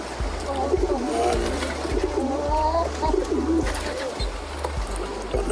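Pigeons in a loft coo in soft, repeated low calls, a steady rhythmic throbbing with a pulse about every half second, close by and moderately quiet, with faint background voices.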